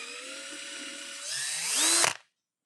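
A power drill bores depth-marked holes into a round wooden table top, a steady whine that rises in pitch and strain as the bit bites deeper, then cuts off abruptly.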